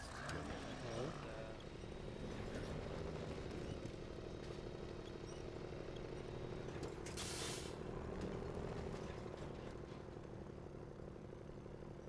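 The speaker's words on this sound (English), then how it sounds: "I'm trying to make Big Truck climb hill." A steady, loud video game truck engine drone straining under load as it climbs a hill, with a brief hiss partway through and a voice talking over it.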